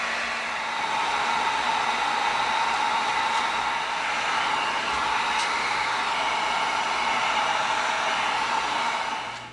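A heat gun blows steadily on EVA foam, a loud, even hiss and whoosh that runs unbroken from start to finish.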